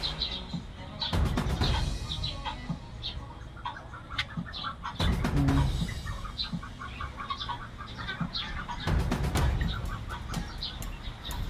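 Chickens cluck and chatter close by in uneven bursts, with scattered peeps and occasional louder rustling noise throughout.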